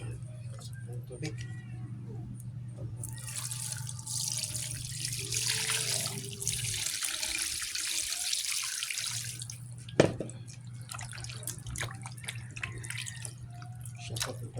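Tap water pours steadily into a sink for a few seconds while food is prepared for cooking pork, over a low hum, with clinks, drips and a cat's faint meow around it.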